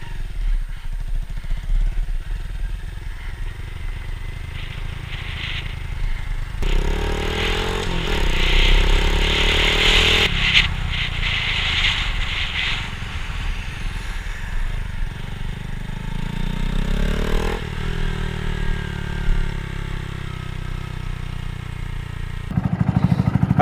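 A Honda Grom motorcycle fitted with a cheap aftermarket exhaust rides along the road, its engine note rising and dropping through several gear changes and throttle pulls, close and fairly loud with wind rush, no voices.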